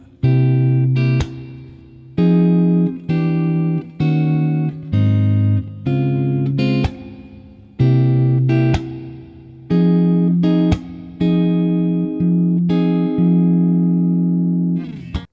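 Fingerpicked guitar chords from the chorus of a song ring out in a steady rhythm, each one plucked and left to decay briefly before the next, clean and close with no voices.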